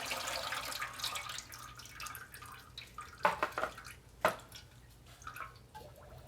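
Transmission fluid drips and trickles from a Chrysler Town and Country's lowered oil pan, faint splashes with a few louder drops, quiet and close.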